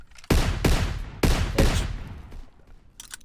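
Walther toggle-action gun fired in a Soviet-versus-Germany Call of Duty game: four loud, close shots in quick pairs, each with a booming tail, then a faint rattle at the end.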